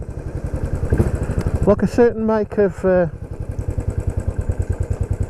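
A motorcycle fitted with a Motad exhaust chugs along with a rapid, even engine pulse, while someone speaks over it briefly near the rider.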